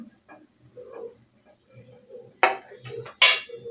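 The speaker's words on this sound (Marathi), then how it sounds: "तो एका प्लेटमध्ये काढते." A cooked spinach paratha is lifted off the pan onto a plate, with two sharp metallic clinks of utensil against the dish and soft scraping between them, close and otherwise quiet.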